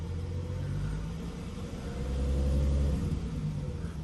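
VW Atlas with a VR6 engine and electronic throttle, 78K miles, revving unevenly: a close, steady low engine rumble that swells and surges in the middle before easing back, with no talking.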